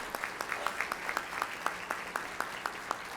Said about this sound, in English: If you would all just give a round of applause to our special guest.